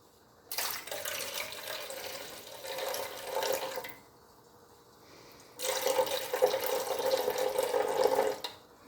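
Milk poured from a jug into a bread machine pan while making buns, two steady liquid streams of a few seconds each with a pause between, close and fairly loud with no talking.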